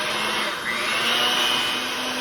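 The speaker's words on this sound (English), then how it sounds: "I need to start with the whites of 3 eggs and a teaspoon of salt. You need to beat that until you have stiff peaks." Steady, loud whirring of an electric mixer beating egg whites with salt toward stiff peaks, a continuous motor drone with no talking.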